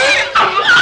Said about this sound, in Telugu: ఏమిటి కుష్కుష్మని శబ్దం వస్తుంది? ఏమి లేదండి. ఏమి లేకపోతే కుష్కుష్మంటుంటేను. అదే కుక్కండి.